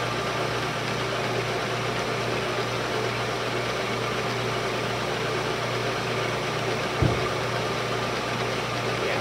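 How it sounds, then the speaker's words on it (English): A lathe hums steadily as it burnishes the face of a brass instrument rotary valve, a constant even drone with one brief knock near the end and no talk. "we're just basically burnishing the surface right now"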